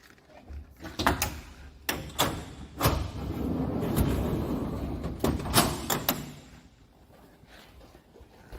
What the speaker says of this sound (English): Around this side we have a bifold door.